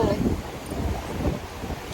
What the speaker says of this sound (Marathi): वारा मस्त आहे